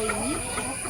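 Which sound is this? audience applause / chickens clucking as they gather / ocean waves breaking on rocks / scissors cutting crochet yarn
chickens clucking as they gather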